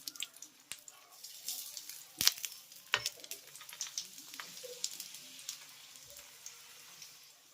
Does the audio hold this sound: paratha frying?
yes